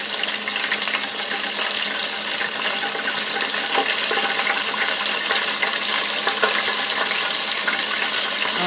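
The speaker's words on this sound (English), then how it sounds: "And I'm going to rinse my hands off." A kitchen tap runs steadily while hands are rinsed. The water makes a continuous, close, even rush of splashing, broken by slight flickers as the hands move through the stream.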